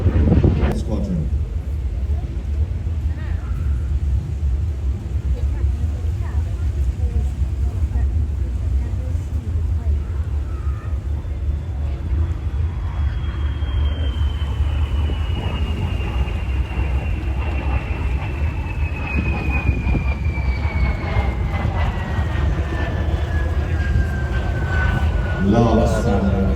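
An aircraft engine drones continuously at an air show, a loud steady roar mixed with a slowly falling whine as the plane passes, with a commentator talking over it throughout.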